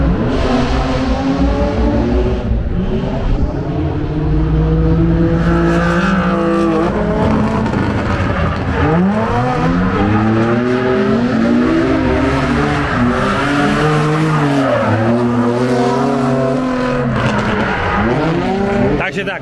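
Race cars on a hill-climb track in Kopřivnice, with engines revving loud and close through repeated rising and falling passes, brief voices over them.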